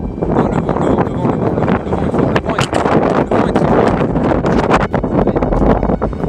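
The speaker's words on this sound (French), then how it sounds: "Non, le vent est fort" Strong gusting wind roars steadily across the microphone during a thunderstorm, a dense, continuous rush with buffeting bursts throughout and no voices.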